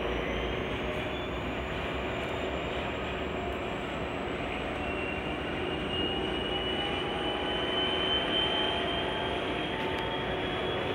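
A Shoreline East train roars steadily and loud, with a faint high tone rising slowly above the constant rumble of engine and wheels, and no pause throughout.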